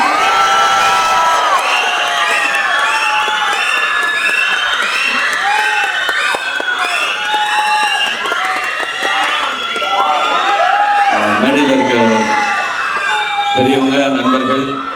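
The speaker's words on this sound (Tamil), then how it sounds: "நல்ல நல்ல கைத்தட்டலோட நம்ம வீட்டு பிள்ளைனா எம்ஜிஆர் எங்க வீட்டு பிள்ளைனா வேற யாரு அண்ணன் எஸ்கே அவர்களை பேச அழைக்கிறோம்" Audience at a Tamil film trailer launch event cheering, whooping and shouting loudly and continuously, with dense crowd noise throughout and a burst of louder voices near the end.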